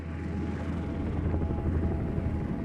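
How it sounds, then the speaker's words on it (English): A red Coast Guard rescue helicopter approaches across mountain terrain, heard as a steady, fairly loud rotor rumble with a low throb that holds without pause and carries no voices. "In the distance, I hear this, and it's this helicopter, this red helicopter, coming towards me."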